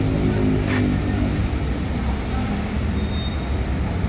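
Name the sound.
Delima Sri Gemilang Jetbus 5 bus passing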